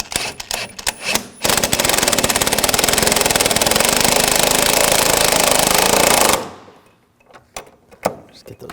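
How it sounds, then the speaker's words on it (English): An impact wrench or power tool rattles loudly and continuously for several seconds while tightening upper rearward control arm bolts on a 2006-2009 Audi S4, preceded and followed by brief clunks and handling noises. "Now we'll tighten these down."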